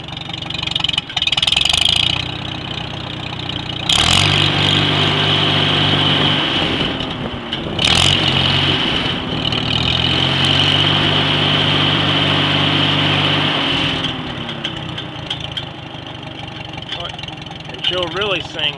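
A 1946 International Harvester I-4 tractor runs with a muffler fitted, a close, steady mid-pitched engine drone that rises and settles with throttle changes, while someone talks over it at times.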